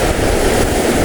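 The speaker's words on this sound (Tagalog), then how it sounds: "Laki ng alon eh." Big ocean waves surge on the shore at a fishing spot in Real Quezon, making a loud, continuous, wind-buffeted wash throughout this brief moment, with no voices.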